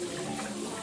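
Hot tap water running steadily from a faucet while vegetables for homemade coleslaw are washed, a close, continuous splashing rush with no talk.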